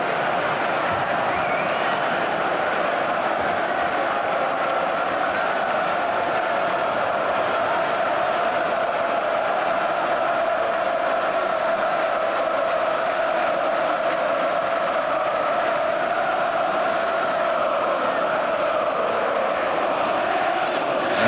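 Away Leeds United fans in the stands at Millwall's The Den keep up a continuous crowd roar of cheering and chanting, a broad, steady wash of massed voices from a distance with no break.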